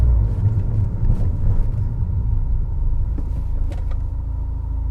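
A Pepper White R56 MINI Cooper S on the road, heard as a steady, loud low engine and road rumble throughout with no talking.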